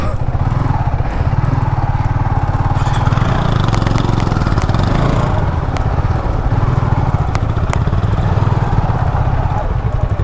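Motorcycle engine running steadily during a ride in Bandarban, a loud, continuous low rumble close to the microphone with no clear talk over it.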